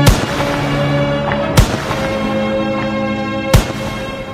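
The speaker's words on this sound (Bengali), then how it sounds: "আবারও গুলির শব্দ" Three sharp, loud gunshots from police rifles near a university main gate ring out about two seconds apart over a steady, droning background.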